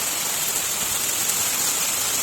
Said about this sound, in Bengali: জোরে এবার বৃষ্টি এসে গেছে, চলে যাবে নিচে,